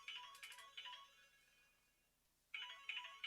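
A phone rings in a room during a live sampler tutorial, two bursts of a bright electronic ringtone separated by a pause of near silence, fairly quiet and with no talk over it.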